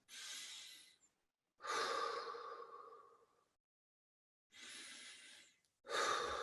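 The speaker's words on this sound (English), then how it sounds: "If we just take 6 deep breaths" Slow, deep breaths taken one after another, full inhales and long sighing exhales close to the mic with silent gaps between them, and no voice.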